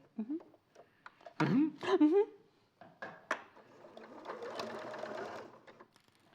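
Sewing machine stitching fabric in a sewing craft demonstration, with a short burst of steady machine whirring partway through, set among talk from a presenter and other speakers.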